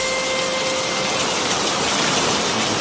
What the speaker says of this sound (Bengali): না, এ বৃষ্টি থামার মতন বৃষ্টি নয়